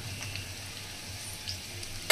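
Raw banana chips frying in hot oil at home for crispy snacks, a steady soft sizzle running throughout with a few faint crackles and a short louder clatter at the end.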